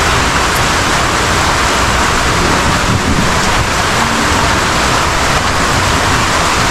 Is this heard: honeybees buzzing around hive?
no